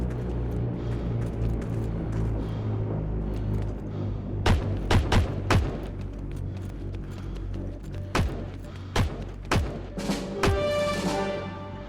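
Gunfire in the online World War II shooter Heroes and Generals, sharp single shots and short bursts cracking over a rumbling battlefield background, some loud and near, others more distant.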